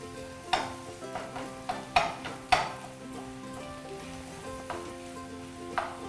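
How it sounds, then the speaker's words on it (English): Egg fries in a pan for desi-style Chinese fried rice, a steady sizzle punctuated by sharp scrapes and clinks of a spoon stirring at an uneven rhythm, close up and without talk. "just gonna carry on stirring so it turns into nice little chunks"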